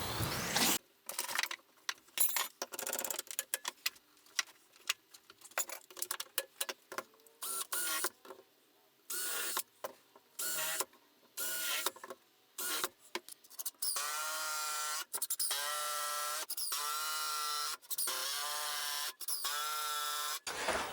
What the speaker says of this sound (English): before I pilot and screw the top frame to the bottom frame